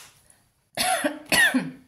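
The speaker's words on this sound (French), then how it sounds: "Oui, je tousse encore." Two sharp, close coughs in quick succession after a brief quiet moment.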